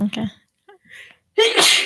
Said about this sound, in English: I thought I was going to sneeze